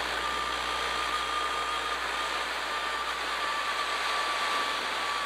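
A 2019 Energica Eva EsseEsse9 electric motorcycle cruises along a bumpy road, giving a steady, loud whine and rush of wind with no break and no voices.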